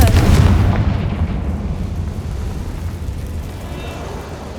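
The Confringo fire spell explodes in the game Hogwarts Legacy, a loud close blast that opens with a sharp boom and trails into a long fading rumble.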